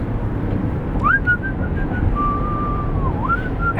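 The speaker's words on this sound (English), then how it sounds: "I promise I can whistle." A person whistles on a roadtrip in Utah: a single sustained melodic whistle that rises, glides and dips over steady loud road or wind rumble, with no talk.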